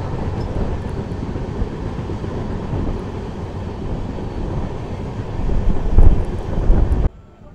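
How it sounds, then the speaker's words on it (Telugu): The Tirumala Express runs fast on its route between Duvvada and Samalkot, giving a steady loud rumble with wind buffeting the microphone that swells near the end before cutting off abruptly. "ట్రైన్ ఎక్స్ప్రెస్ ట్రైను రన్ మాత్రం సూపర్ ఫాస్ట్ అండి బాబు, సూపర్ ఫాస్ట్"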